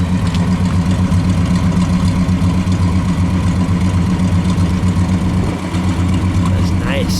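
A supercharged 1964 Studebaker Hawk GT R2 idles close up with a steady, loud, lumpy rumble that dips briefly near the end, while people talk over it.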